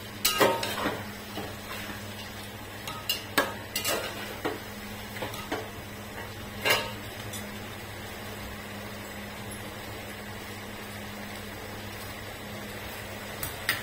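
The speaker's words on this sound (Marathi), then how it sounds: "आपली 10 अंड्यामध्ये ते अंडे टाकायचे आतमध्ये. असं परतायचं." Eggs stirred and turned in a pan for egg biryani, a scattering of soft metallic scrapes and clinks of a spoon against the pan, clustered early and thinning out over a steady low kitchen hum.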